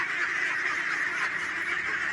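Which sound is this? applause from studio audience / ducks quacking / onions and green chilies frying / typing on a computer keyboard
ducks quacking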